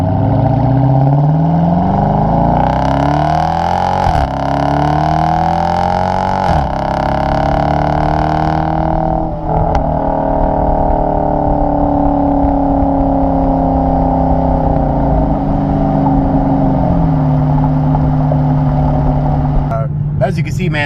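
A 2019 Dodge Charger R/T accelerates hard from inside the cabin, its engine note climbing in pitch and dropping sharply at each of several quick gear shifts, loud and continuous with occasional talk over it.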